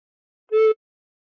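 One short recorder note with the thumb hole and holes 1 and 2 covered, a clear steady tone heard alone against silence.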